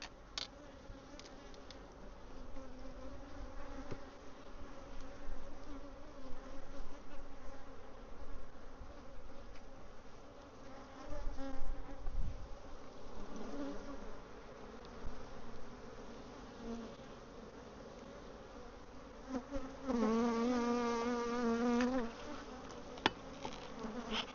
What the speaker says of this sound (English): There's a ton of bees in here.